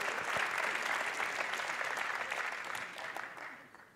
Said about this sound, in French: On applaudit Perpignan, la métropole de Perpignan